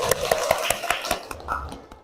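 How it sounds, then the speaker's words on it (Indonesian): Schoolchildren in a classroom perform a spirit clap, a quick, even run of about ten sharp hand claps in steady rhythm, fairly close, with voices mixed in. "Tepuk semangat dulu."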